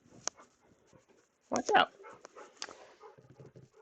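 A puppy whimpers and yips in short bursts indoors near someone working with a 5x7 embroidery hoop and stiff denim, its cries mixed with someone talking.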